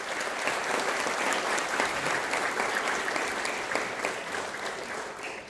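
Sustained audience applause fills a dance festival hall during an evening of classical ballet and modern dance performances, a steady dense clapping that holds loud and even throughout with no voices over it.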